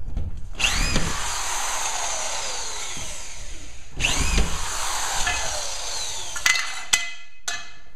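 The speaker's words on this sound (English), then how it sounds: "Now I can put a couple screws in it just to hold it." A power drill drives screws into a wall sheet during a property renovation. Two long whirring runs rise and fall near and loud, followed by short clicking bursts.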